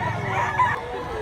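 A rooster crows once at a cockfighting-rooster farm in Mantalungon, Cebu, fairly near and moderately loud, the call fading at the end.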